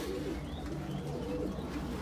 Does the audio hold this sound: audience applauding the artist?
no